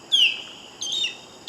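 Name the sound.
osprey call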